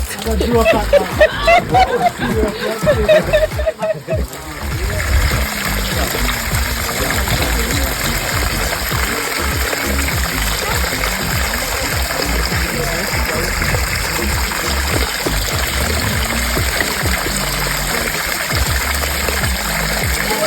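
Rushing hot spring water flows strongly and continuously, steaming, loud and close, with a voice speaking over it early on.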